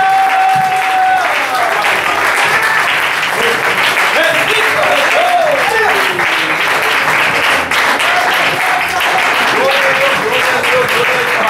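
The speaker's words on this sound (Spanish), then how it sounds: "Dar un aplauso a Cristo" A church congregation claps loudly and continuously for several seconds, with a voice speaking and calling out over the dense applause.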